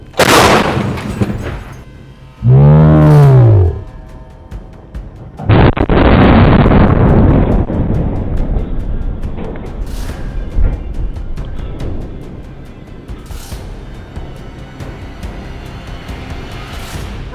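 A tank cannon firing point blank lets off one huge, close blast that rolls into a long rumbling decay, with short shouts just before the shot.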